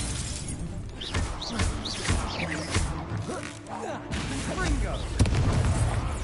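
In Hogwarts Legacy, an Incendio fire spell goes off amid duel effects: whooshing bursts, sharp cracks and shattering impacts come in quick succession. Voices call out spells and taunts over the combat.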